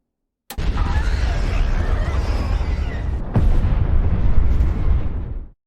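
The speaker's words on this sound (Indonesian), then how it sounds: "Mickey menekan tombol bom tersebut dan ledakan besar pun terjadi." A big bomb explosion in the sci-fi film Mickey 17, heard as a sudden loud blast followed by sustained roaring rumble and debris, with a second surge of boom midway before it cuts off.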